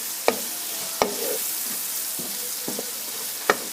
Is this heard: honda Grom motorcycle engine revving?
no